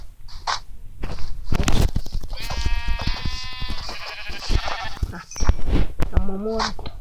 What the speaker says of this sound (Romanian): Uite-o oaie, bă!